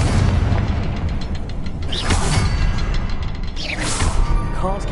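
Confringo explosive spell blast in the Hogwarts Legacy video game: a loud, dense rumbling burst with crackling debris and whooshing swells over several seconds, no speech.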